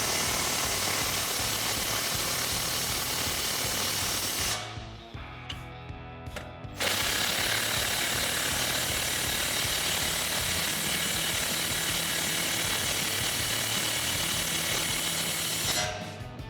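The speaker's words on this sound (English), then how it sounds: "And those just tighten down with our 21 millimeter." A ratchet with a 21 mm socket tightens shock mount nuts on a 2011-2014 Mustang, rapid pawl clicking in long close bursts with a short pause midway.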